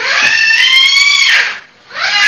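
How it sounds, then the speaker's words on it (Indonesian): A child screams at close range, a loud, shrill, sustained cry lasting over a second, then a brief pause before a second scream begins. No talk is heard. "iku anak sapa iku jerit-jerit iku rek"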